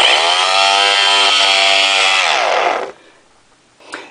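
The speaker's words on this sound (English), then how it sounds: "So using my controller, both of the motors start together and appear to have the same RPM." Two brushless motors driven together by a single C-King 35-amp ESC from a small 3-cell LiPo pack scream at a loud, steady high pitch, then wind down and fade, leaving a brief faint whir at the end.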